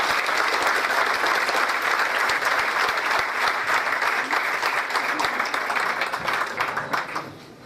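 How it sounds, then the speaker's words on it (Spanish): A graduation audience applauds new doctoral graduates at a university ceremony, with dense, sustained clapping filling the hall at a steady level before thinning and fading at the end. "Un aplauso para los nuevos."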